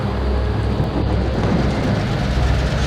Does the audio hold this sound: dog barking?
no